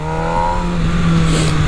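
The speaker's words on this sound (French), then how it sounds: "quand on ouvre les gaz en grand et que la moto commence à dépasser les 8000 tours, voilà ce qui se passe" MV Agusta Brutale 1000 RR motorcycle at full throttle, its engine screaming past 8000 rpm in a loud, sustained, close roar with steady high harmonics that climb slightly.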